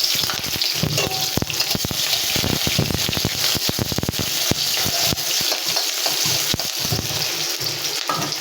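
Onion goes into hot oil in a wok for a vegetable curry, making a continuous crackling sizzle punctuated by sharp clicks and scrapes of stirring.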